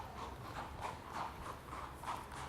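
A racehorse in training moves with regular clip-clop hoofbeats, an even rhythmic series of muffled thuds at moderate distance, steady and unhurried across the whole stretch.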